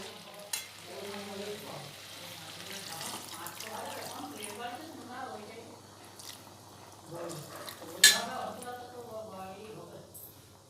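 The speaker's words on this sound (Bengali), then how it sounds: "এবারে জল দিয়ে দেবো" Water is poured into a sizzling pan of chicken and potatoes cooked with Gondhoraj lime, and the frying hiss surges with a sharp splash near the end, under a steady hum and a faint voice in the background.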